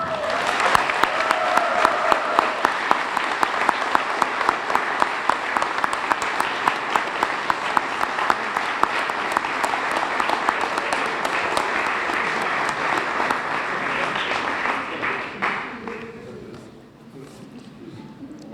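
An audience at a Nicholls State Hall of Fame induction ceremony applauds the inductees in a sustained round of clapping that fades out near the end.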